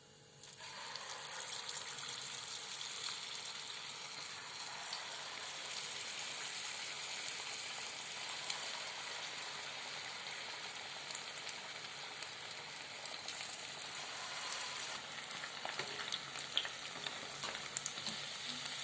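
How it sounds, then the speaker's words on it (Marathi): Steady hissing sizzle of Chicken 65 pieces frying in hot oil in a kadhai over a low flame, unbroken and fairly soft, with faint clinks now and then. "चिकन इथं आपल्याला मंद गॅसवरच तळायचं आहे"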